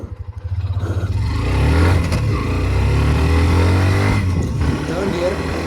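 A Hero Xtreme 125R motorcycle revs and accelerates up through its gears on a slope, its engine drone steady and close, with a rider talking over it.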